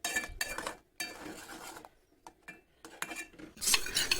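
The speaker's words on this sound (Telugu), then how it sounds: "యాడ్ చేసిన తర్వాత ఒకసారి ఈ విధంగా బాగా కలిపేసుకోవాలి" A spoon stirs a milk and cream mixture for homemade kulfi in a metal vessel, giving close scraping and clinking strokes in short bursts separated by quiet pauses.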